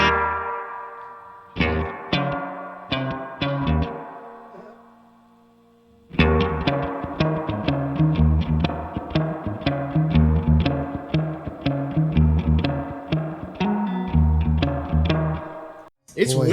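Electric guitar played through a Boss RE-202 Space Echo pedal with its reverb effect, strummed chords and picked notes ringing in a wet, lingering wash that fades into a pause and then returns with a busier run, loud and close.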